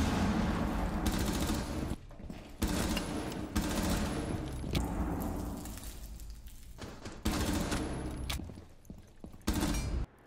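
Gunfire from the shooter video game Rainbow Six Siege, loud rapid bursts of automatic fire broken by short gaps, with several sustained volleys and abrupt stops, and no voices.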